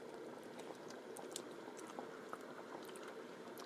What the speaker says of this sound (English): let it simmer for a few minutes before we add that meat